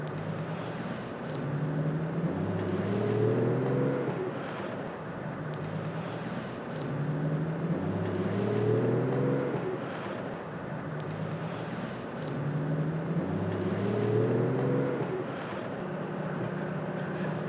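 A 2017 third-generation Toyota Tacoma 4x4 with a six-speed manual drives through a spring nor'easter snowstorm with the heater blower running, giving a steady broadband cabin rumble and whoosh with repeating low engine swells.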